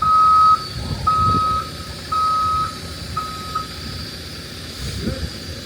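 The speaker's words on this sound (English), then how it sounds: "I see the first dump truck coming" A dump truck arrives at a home where a driveway is being built, its reversing alarm giving repeated steady beeps over low engine rumble, fairly close.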